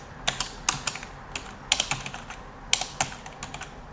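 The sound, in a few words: typing code on a computer keyboard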